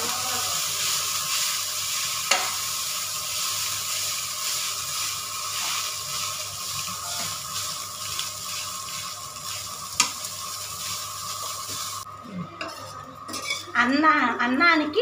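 Cooked rice being stirred into a spicy tempering in a pan, a steady sizzle with scraping and clinks of a utensil against the pan, and a voice briefly heard near the end.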